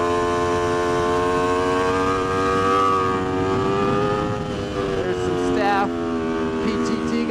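An Aprilia RSV4 RF superbike pulls hard on a racetrack in a tall gear, its engine note rising steadily and loud from the rider's onboard position, with speech over the top.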